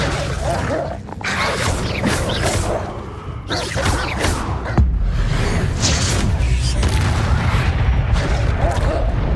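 Spell casting in Hogwarts Legacy, including the Confringo blast, with dense, loud booms and crackling bursts overlapping one another amid continuous game noise and shouted incantations.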